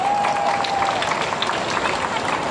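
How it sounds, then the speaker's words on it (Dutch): An outdoor crowd at an Earth Hour event on Independence Square applauds in a dense, steady wash of clapping that runs the whole way through, with a thin tone audible at the start. "En ja, een applaus!"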